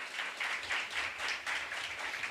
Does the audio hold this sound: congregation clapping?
yes